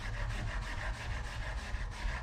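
Peeled, cored apples being grated for muffins, a steady run of rhythmic rasping strokes against the grater, close and fairly quiet with no talk.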